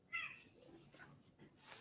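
A cat visiting a room gives a short, faint meow-like call near the start, with quiet room noise and soft voices around it.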